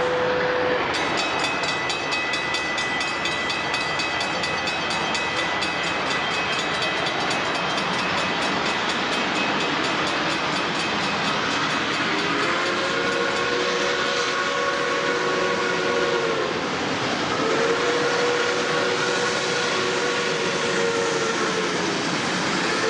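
A train on a rail chase rumbles past at Tamaqua, loud and close, a continuous heavy roll with wheel clatter; its horn sounds twice in long, sustained blasts near the end.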